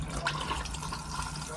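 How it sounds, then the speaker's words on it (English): Toilet flushing inside an Auto-Sleeper Nuevo ES motorhome, a short close rush of running water at moderate level with no talk. "Toilet flusher is just there."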